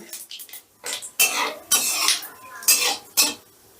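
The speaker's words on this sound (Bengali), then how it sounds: "ফোড়নটা একটু নাড়াচাড়া করে নেব" Cumin seeds and a torn dried red chili are stirred in hot oil for a tempering. A metal spoon clinks and scrapes against the pan in several short bursts, close and fairly loud, with no talk.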